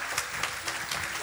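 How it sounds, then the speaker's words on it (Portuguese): A church congregation gives a round of applause during a service, heard as a short burst of continuous crowd clapping, dense and steady throughout. "Uma salva de palmas"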